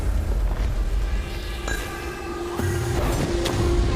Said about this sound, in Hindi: ओ माय गॉड, ओ नहीं, ड्रैगन ने जिमी को उड़ा दिया।